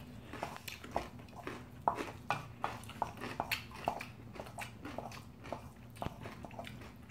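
Close, wet chewing and soft crunching from someone eating bibimbap made with salted fish-gut and egg, a steady rhythm of bites and smacks with no talk.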